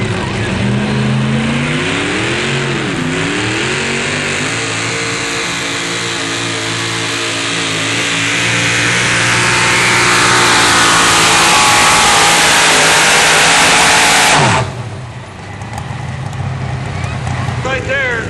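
A fuel-injected, naturally aspirated pulling truck engine of about 650 cubic inches, in a 6,200-pound truck at a Jackson, Tennessee truck pull, revs loud and close, rising and holding a high roar before cutting off sharply near the end.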